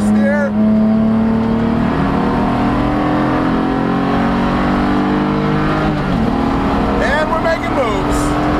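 A BMW Spec E46 330ci race car engine on a track holds a loud, steady high-revving drone as the car slides into oversteer, pitch dipping briefly then climbing again, with faint tyre squeal and a voice speaking over it.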